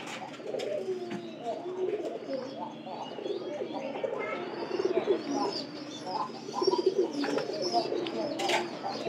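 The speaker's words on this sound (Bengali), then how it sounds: "আর আমরা নতুন কবুতর কিন্তু রাতের বেলা থেকে ঘরে রাখতেছি" Pigeons cooing inside their house, with soft repeated coos and occasional chirps from several birds, close by and moderately loud, with a faint voice in the background.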